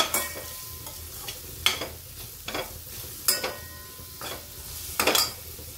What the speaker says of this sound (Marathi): आता आपण मसाले ना परतून घेऊ।